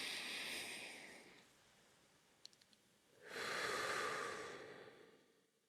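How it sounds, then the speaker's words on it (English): A slow, deep breath is drawn in through the nose and then let out through the mouth, close and soft, with a quiet pause between the inhale and the exhale. "take the deepest breath you can"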